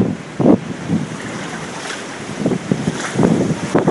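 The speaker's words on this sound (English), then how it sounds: "Alright, water's still pouring in here." Floodwater surging around a Long Island house during Hurricane Sandy in 2012, heard as irregular sloshing and rushing bursts under steady wind buffeting the microphone, with no voices.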